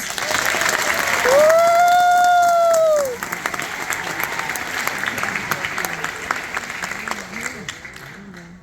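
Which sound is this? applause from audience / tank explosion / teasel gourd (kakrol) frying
applause from audience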